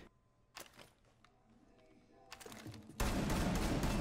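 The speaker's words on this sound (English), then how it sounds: "pretty much you can just shoot out this whole floor in the hallway" Gunfire in Rainbow Six Siege shooting out a hallway floor, scattered shots at first, then a sudden dense burst of rapid fire in the final second, loud and close.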